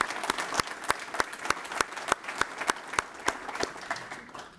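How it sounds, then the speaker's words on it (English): A faculty awards ceremony audience gives an absent award recipient a round of applause, scattered sharp claps in a modest hall rising together and then thinning out toward the end. "let's give him a round of applause in case he's watching"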